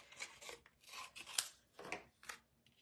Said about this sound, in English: I think I'm going to trim a little bit of this off.